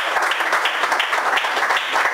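A church congregation at a baptism service in Norway applauds continuously, a dense, steady wash of many hands clapping together, fairly loud and close, with no talk over it.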